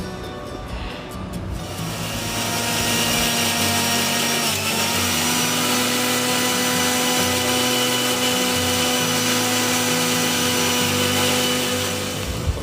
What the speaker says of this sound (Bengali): এরপর সেই মিশ্রণে সামান্য পরিমাণ জল আর কাঁচা লঙ্কা দিয়ে আবার আমরা ভালোভাবে কিন্তু গ্রাইন্ড করে নিলাম